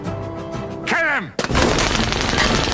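Gunfire from the animated film Fantastic Mr Fox: a falling whistle-like sweep drops into a sharp blast, followed by a dense, loud burst of shots and rumble.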